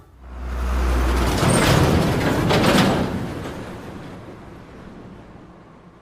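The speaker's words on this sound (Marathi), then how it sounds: "हो, ट्रक" A truck, presented as one of several vehicle sounds in a listening exercise, rumbles past from near to far, with a strong low engine drone that swells over two seconds and then fades away.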